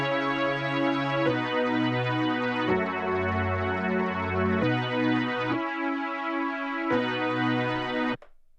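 Logic Retro Synth Dark Background pad playing a slow chord progression, sustained warm layered chords changing every second or two, loud and alone, ending with a brief fade after the last chord.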